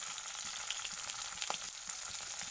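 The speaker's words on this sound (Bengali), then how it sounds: "গ্যাসের স্টিমটা একদমই অল্প দিয়ে মাছটাকে ভালোভাবে ফ্রাই করে নিতে হয়।" Singi fish frying slowly in oil over a low gas flame, a steady bright sizzle with scattered crackles and one sharper pop, continuous and close with no voices.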